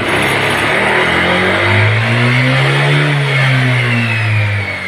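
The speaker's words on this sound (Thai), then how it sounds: "ผมบิดคันเร่ง" A car engine revs hard as the throttle is opened, the pitch climbing, holding high, then easing back down, loud and close, with no voices, during a check of the vehicle's charging system.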